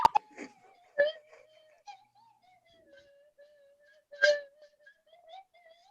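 A quiet slide whistle plays a wavering tune of gliding pitches, broken by a few soft clicks and taps.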